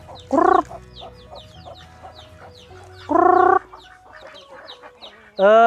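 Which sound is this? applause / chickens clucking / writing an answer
chickens clucking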